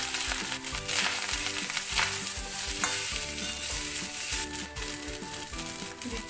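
Pre-cooked rice being fried and stirred in a pan with white cumin for jeera rice, giving a loud, continuous sizzle with repeated scraping and tossing sounds up close, and no voices.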